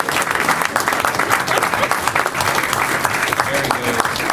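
Audience at a school board meeting claps in sustained, dense applause that stays loud and even throughout, with voices mixed in among the clapping.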